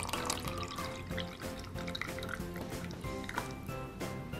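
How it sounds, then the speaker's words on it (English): Water is poured from a container into a cup to mix a grape drink, a steady close gurgling trickle that rises in pitch as the cup fills, continuous and alone. "So I'll pour in the water."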